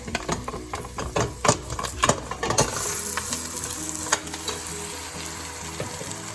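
Butternut squash hits a hot pan and fries, first with a burst of sharp crackles and stirring clatter, then settling into a dense, even sizzle.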